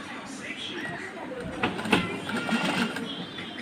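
Sewing machine stitching a blouse seam, with a steady mechanical whir that swells slightly partway through, under faint background sounds.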